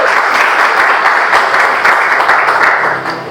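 Audience applause during a sermon, a dense, steady wash of clapping filling the hall for about three seconds before tapering slightly at the end.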